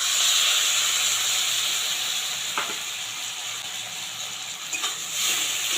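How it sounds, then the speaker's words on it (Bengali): Tomato paste hits hot oil in a pan of fried ginger while ghugni of kabuli chickpeas is cooked, giving a loud, steady hiss and sizzle throughout, broken by a couple of faint utensil clicks, with no talking. "আর এখানে দিয়ে দিচ্ছি টমেটো পেস্ট"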